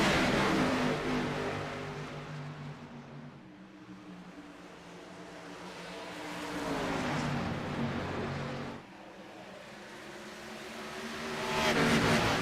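Race cars at Iowa Speedway roar past under green flag racing, engine drone swelling and fading in long waves as the field circles, with no voices heard.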